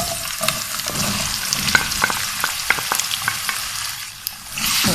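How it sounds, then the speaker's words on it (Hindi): Potatoes fry with cumin in a pan for aloo matar, a steady close sizzle broken by frequent scraping stirs, with no talking. "आलू को भी अच्छी तरह फ्राई कर लेते हैं"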